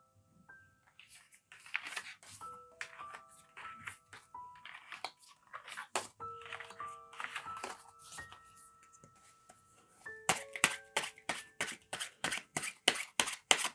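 Tarot cards are handled, shuffled and drawn up close in a run of crisp papery shuffles and slides, ending in a fast, loud series of sharp snapping riffles with no voices.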